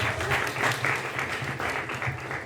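An awards-night audience applauds, a steady wash of clapping for a couple of seconds, moderately loud and close, with a low musical hum underneath.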